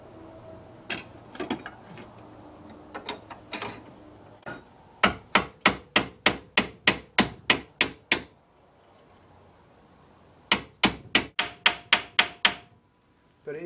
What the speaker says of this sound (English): Got the cross peen hammer.